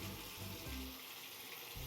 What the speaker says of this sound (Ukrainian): Сюди треба набрати води